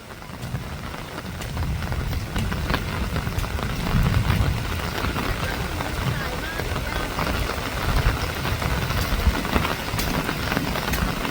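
Steady rain pours down at a house during a storm, a dense, even hiss of drops on surfaces lasting throughout, with a faint voice here and there.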